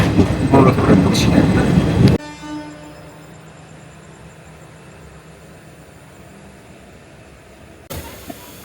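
Passenger train running from Kolkata to Deoghar between Bardhaman Junction and Pandua: a loud, rattling roar for about two seconds, then a quiet steady hum, and a brief loud burst again near the end.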